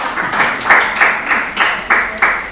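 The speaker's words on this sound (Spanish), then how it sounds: "Un aplauso con las uñas." A church congregation applauds during a sermon, the clapping coming in loud, rhythmic swells roughly twice a second, close and crowded, with no talking over it.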